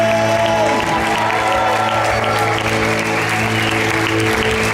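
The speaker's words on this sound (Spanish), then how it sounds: "Dele la gloria con aplausos, con grito de júbilo." Sustained applause from a large crowd at a church gathering fills the space, with scattered cheers and a steady musical drone underneath.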